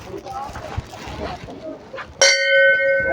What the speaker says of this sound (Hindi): ये घंटी है, ये मैंने घंटी बजाई